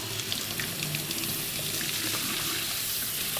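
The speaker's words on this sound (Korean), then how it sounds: "다시 한번 이제 흐르는 물에 헹궈서" Running tap water streams steadily into a kitchen sink while raw prawns are rinsed, a constant close splashing hiss with no pauses and no talking.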